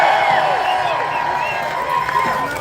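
A rowdy protest crowd in New Orleans cheers and whoops, a broad roar of voices with scattered shouts and clapping, loud and continuous, with some higher yells rising above the mass.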